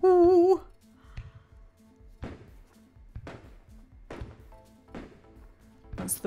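Blue peony fireworks in the game Fireworks Simulator go off as a series of dull, evenly spaced thumps and bursts. A brief warbling tone comes before them, and there are faint crackles between the bangs.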